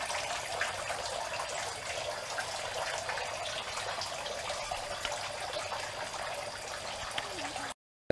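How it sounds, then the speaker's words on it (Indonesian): Water flows steadily into a catfish breeding pond to aerate it, a continuous bright splashing rush that stays even throughout, then cuts off abruptly just before the end. "Dikasih air mengalir Pak Yono. Ya ini kan untuk oksigen."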